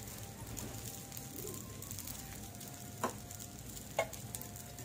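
Sabudana thalipeeth sizzling on a hot pan: a quiet, steady crackling fry with faint ticking pops and a couple of brief clicks near the end, no talking.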